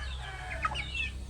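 A pet binabae fighting hen gives a few soft, quick clucks close by over a low, steady background hum.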